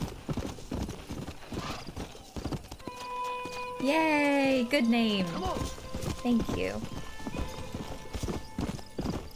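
Horse hooves clip-clop in a dating simulator video game, and a loud whinny rises and falls in the middle under steady talking.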